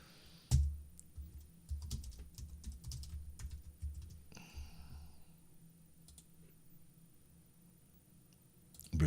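Fingers type steadily on a dirty computer keyboard close by, with rapid key clatter and occasional sharper clicks and no talking.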